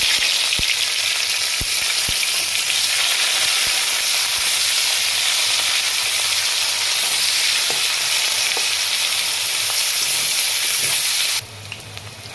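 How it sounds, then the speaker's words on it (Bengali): Chopped onions fry in hot oil in a pan for chicken keema chochchori, giving a loud, steady, close sizzle with faint occasional stirring clicks. The sizzle drops away abruptly near the end. "পেঁয়াজগুলো আমার অর্ধেক ভাজা হয়ে গেছে"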